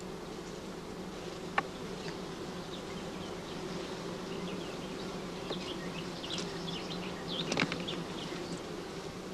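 Steady, dense buzzing of many honeybees close by on hive frames, continuous throughout with a few brief louder bursts as individual bees pass near.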